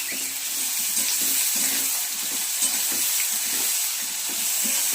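Boiled rice frying in ghee with salt in a pan for fried rice, a steady close sizzling hiss with soft scraping stir strokes throughout and no talking.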